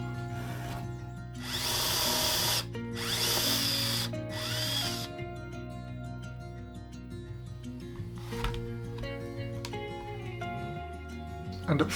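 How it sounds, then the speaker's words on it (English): Power drill boring control holes into a wooden semi-hollow guitar body, two loud sustained whining bursts up close with brief pauses between, followed by quieter workshop handling noise under background music. "then to drill the holes for"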